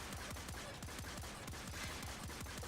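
The Arca Scisco fired from the hip in Warframe, rapid automatic shots in a fast even burst that keeps going throughout, fairly quiet and with no talking over it.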